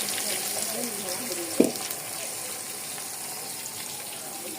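Blended onion paste frying in hot oil for egg korma gives a steady, moderate sizzle throughout, with one sharp clatter near the middle, probably a utensil against the pan.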